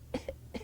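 A voice imitates a stifled, suppressed cough in a few short, tight bursts, close and fairly quiet.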